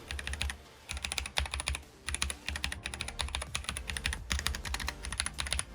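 Continuous typing on a Drop ENTR mechanical keyboard, a steady run of crisp clicky keystrokes with brief pauses, close up and fairly soft.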